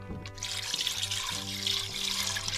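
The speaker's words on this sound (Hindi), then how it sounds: "अब मैं इनके अंदर ये जो यखनी है ये डालूंगी।" Mutton stock (yakhni) poured from a vessel into a pot of ghee-fried goat trotters, a steady trickling splash lasting a couple of seconds, fairly quiet, with no voices.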